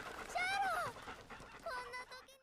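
A girl's pet dog in an anime during a zombie apocalypse, panting quickly and letting out high, wavering whimpers, close and fairly clear in two short bursts.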